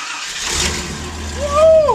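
Snow plow engine cold-starting on the first try with no pumping of the gas, cranking then catching into a rough rev, with people talking and cheering over it.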